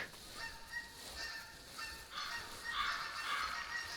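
Canada geese in a hunting video game, a flock honking repeatedly at middle distance, the calls overlapping and growing louder toward the end.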